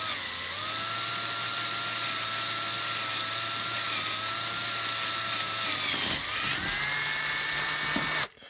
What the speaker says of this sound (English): just start gently and just let the weight of the drill go in